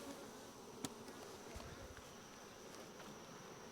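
A dense, continuous hum of many honeybees buzzing together at a hive, with occasional individual insects passing close by.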